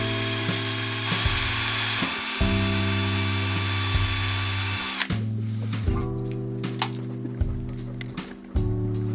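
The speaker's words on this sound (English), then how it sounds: "Very, very carefully, I drill out the resin that is covering the eyes." A small power drill bores out cured resin over the eyes of a handmade fishing lure, a loud, close, steady whine that starts and stops in short bursts and changes pitch as the bit bites.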